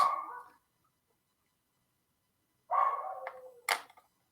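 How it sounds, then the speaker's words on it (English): Small puppies bark indoors in short bursts, a couple of quick yaps at the start and another cluster after a pause, moderately loud with nobody speaking. "my puppies are going to be barking now"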